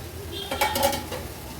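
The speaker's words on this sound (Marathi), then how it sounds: "1-2 ते 3 मिनिटं झाले, झाकण काढून घेते।" A metal lid comes off a cooking pot of dried tiny shrimp over a low-to-medium gas flame, a short clink and scrape against the rim followed by faint sizzling, near and fairly quiet.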